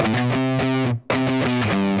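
Distorted electric guitar plays the main riff on the low string, tight palm-muted chugging hits in a steady driving rhythm with a brief gap midway, loud and close with no talk.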